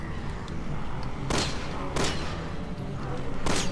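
Gunfire in Resident Evil 6, with three sharp shots spaced about a second apart that ring out over steady background game noise.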